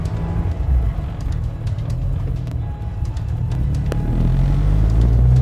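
A 1971 Mini Cooper S engine running on P1 fuel idles with a steady low rumble, loud and close, with a slight rise in intensity toward the end.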